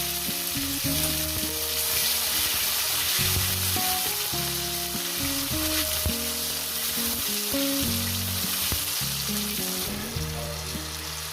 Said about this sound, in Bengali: আমি দিয়ে দেবো এখানে টমেটো টমেটোটা মিনিমাম এক থেকে দেড় মিনিট এটাকে ভেজে নেবো